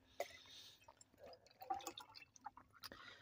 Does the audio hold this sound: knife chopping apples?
no